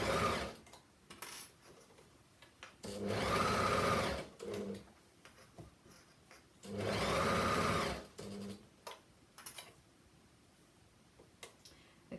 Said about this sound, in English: lift the toe of the overlocking foot so just to secure both pieces of fabric are lined up, and sew